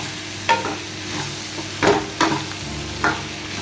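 Potatoes are stirred in a sizzling pan for a Punjabi cauliflower sabzi, with four or five distinct scraping strokes of a utensil over a soft, steady frying hiss.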